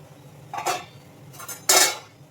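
A metal lid set onto a cooking pot clanks in three separate knocks, two light ones and then a louder, ringing final clatter, close by with no talk.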